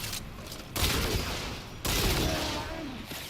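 Two loud, sustained bursts of weapon fire in the sci-fi shooter Warframe, each a dense crackling roar that cuts in abruptly and lingers, with no talking.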